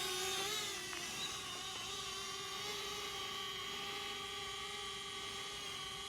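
A DJI drone takes off and climbs, its propellers giving a steady, high-pitched whir with sustained tonal hum that stays loud and constant throughout, with no talk.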